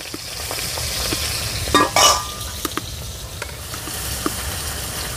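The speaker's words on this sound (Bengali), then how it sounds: "তো মাছের মাথাটা আমি ভালো করে ভেজে নিয়েছি।" A hilsa fish head frying in oil in a wok gives a steady close sizzle, with a louder burst of crackling near the middle as it is stirred and a few faint utensil clicks.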